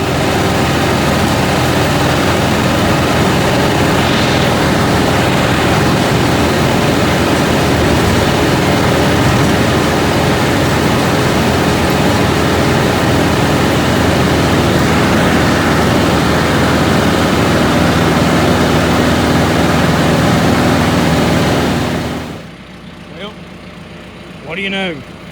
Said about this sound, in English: Well, let's go get on the tractor.